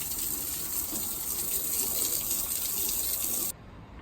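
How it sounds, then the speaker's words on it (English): A garden hose spraying and rinsing a wooden deck after cleaning, a steady close hiss of running water that cuts off abruptly near the end, with no talking. "now I'm going to go back across the whole deck with the water hose and rinse it"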